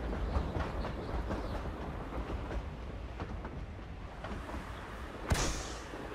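Train running in the video game Hogwarts Legacy, a steady rumbling roll with repeated clacking and a sharp loud bang near the end, no talking.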